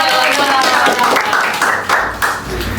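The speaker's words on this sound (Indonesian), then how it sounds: "Tepuk tangan dulu" Hands clap steadily at a junior high school student council gathering in Jakarta, the applause loud and close with voices speaking over it.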